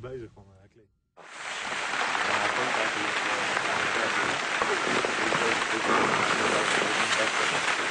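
Steady, dense hiss of heavy rain starts abruptly after a brief moment of talk and continues evenly, loud and close, to the end.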